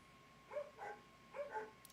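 Dogs bark somewhere away from the microphone, two pairs of faint barks with a short gap between them.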